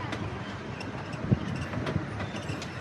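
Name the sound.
1/3 scale C.P. Huntington replica steam train riding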